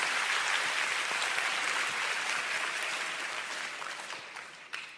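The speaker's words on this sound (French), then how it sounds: "Je pensais que vous applaudiriez plus vite et plus fort." Audience applause fills a large church hall at a Dag Heward-Mills service in Changi, Singapore: dense, steady clapping from a big crowd that holds strong, then gradually thins and fades toward the end.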